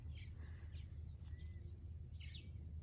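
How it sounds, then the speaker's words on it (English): Birds chirp and sing outdoors at a ranch in Tennessee, short faint calls scattered over a steady low rumble of background noise. "the birds are pretty loud"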